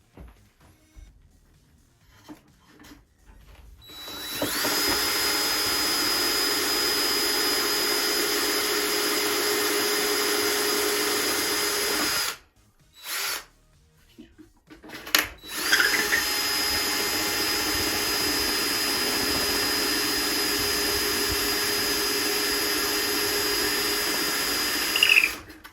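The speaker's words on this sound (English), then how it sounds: "when you're drilling, the drill doesn't go through and smash through your sheeting" Drilling holes through the wing of a Top Flite .60 size P-40E Warhawk model airplane with a power drill, giving a loud steady whine that runs for seconds, stops briefly with a few short bursts, then resumes.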